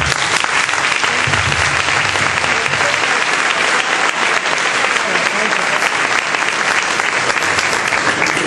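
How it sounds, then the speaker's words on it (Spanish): Loud, sustained audience applause at a school graduation ceremony where sashes are presented, a dense roar of many hands clapping close and steady throughout, with a faint murmur of voices beneath. "Para ello pido también un aplauso."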